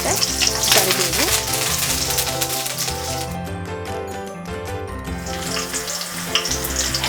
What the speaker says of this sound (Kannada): ಎಣ್ಣೆ ಕಾದ್ಮೇಲೆ 4 ಹಸಿಮೆಣಸಿನ್ಕಾಯಿನ ಸೀಲಿಟ್ಕೊಂಡಿದ್ದೆ ಅದನ್ನು ಹಾಕ್ತಾಯಿದ್ದೀನಿ